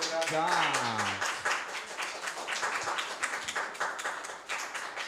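A crowd claps in a steady patter of applause after a brief voice at the start. The clapping is dense and continues throughout.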